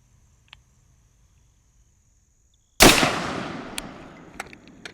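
A single loud gunshot cracks out at an outdoor range, followed by a long decaying echo and a few faint clicks, with near silence before it.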